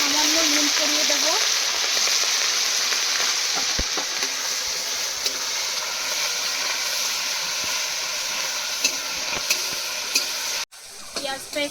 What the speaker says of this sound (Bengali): এবার দিয়ে দেবো পেঁয়াজ বাটা, পেঁয়াজের মধ্যে সামান্য নুন ছড়িয়ে দেবো।